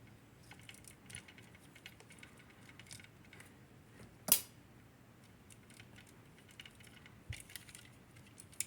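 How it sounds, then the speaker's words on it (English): Small plastic parts click and rattle as a beam rifle and shield come off a Master Grade RX-78-02 Origin Gundam model kit, faint scattered taps with one sharp snap midway. "take the beam rifle out of his hand and take off his shield"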